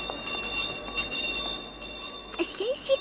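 A train rumbles along with faint high squeals from the wheels and brief clattering, under quiet talk in an animated scene.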